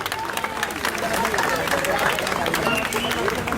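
A crowd at a protest at Jantar Mantar claps in a dense, steady wash of applause, with voices murmuring underneath.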